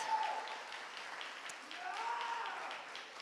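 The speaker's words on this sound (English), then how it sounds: "give yourselves a round of applause" Gala audience at a children's kidney charity anniversary event giving a round of applause, a soft, distant wash of clapping with faint voices mixed in, steady from start to finish.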